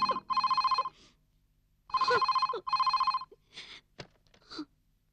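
A telephone rings with repeated bursts of an electronic bell tone in two paired rings, followed by brief rustling sounds and short breaths.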